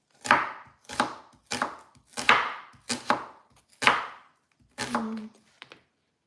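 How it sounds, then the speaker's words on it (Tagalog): Onions being chopped with a knife on a board: about eight loud, close, evenly spaced chops, each one a sharp thud, with no speech. "We're chopping the onions."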